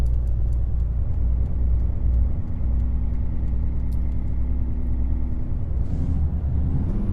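Freightliner Argosy truck in American Truck Simulator, its engine straining uphill with a steady loud low rumble throughout, a brief hiss near the end like an air release.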